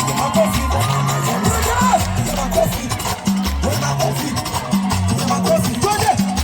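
A crowd cheers, whoops and claps for Mama Zamzam during a live performance in Nyali sub county, Mombasa. The loud, sustained crowd noise sits over pounding music with a stepping bassline.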